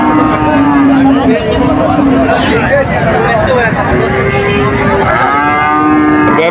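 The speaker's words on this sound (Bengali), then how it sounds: "অনেক গরু আছে এখানে এই যে গাই গরু আছে এরে গরু আছে বিভিন্ন রকমের গরু আছে" Cattle at a busy livestock market, cows and bulls lowing repeatedly in long, loud moos close by, layered over a steady crowd murmur and people talking.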